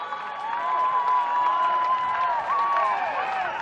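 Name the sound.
stadium crowd cheering at college baseball game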